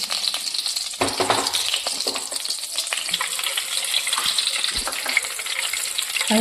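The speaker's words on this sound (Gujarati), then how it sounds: "આ આપણે તેલ અને બટર રાખી ગરમ થઈ ગયું છે" A kadai of hot oil and butter gives a continuous bubbling sizzle, close and fairly loud, with faint stirring scrapes scattered throughout.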